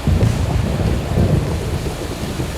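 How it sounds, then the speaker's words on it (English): Loud thunder rumbles continuously beneath steady rain and light wind at a tropical offshore fish farm, a dense, booming roar with no talking. "So what are we hearing right now? Thunder."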